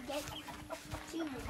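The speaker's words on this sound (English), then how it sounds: "This is a hen." A hen clucks in short, low bursts close by on a farm among seedlings, with outdoor background noise and faint voices around it.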